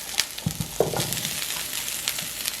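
Diced potatoes stir-fry with sautéed onions in a pan, a soft, steady sizzle broken by light scraping and stirring clicks, close and alone without speech.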